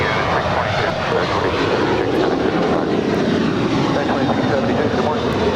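A Boeing 737-900ER roars steadily on its takeoff run from runway 25 right at LAX, a loud, continuous engine rumble with no break.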